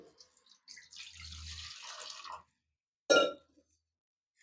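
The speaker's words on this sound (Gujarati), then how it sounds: "તો આમાં આપણે પાણી લેશું" Water pours into a bowl for soaking fried vadas, a short hissing splash lasting over a second, then a single sharp clink of a vessel in an otherwise quiet kitchen.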